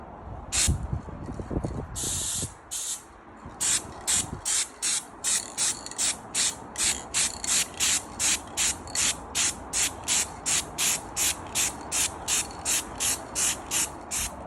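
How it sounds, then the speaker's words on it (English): Aerosol spray paint applied to a Toyota Hilux part in a V8 build, a long run of short, sharp hissing bursts in a steady rhythm after an opening continuous spray, close and alone. "It's a spray paint, making it new again."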